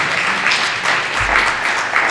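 Steady applause from the audience at a closing panel debate in Italy, a dense wash of clapping that holds at an even level throughout, with no speech over it.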